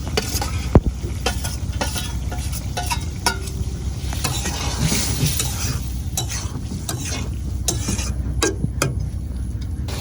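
Fish curry stirred in a pan at a village outdoor cook-up, with a steady close sizzle and repeated scraping clinks of the spoon against the pan.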